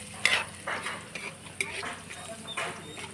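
Small squid cook in a pan with a steady sizzle, as repeated stirring strokes scrape and clink against the cookware at a moderate, close distance.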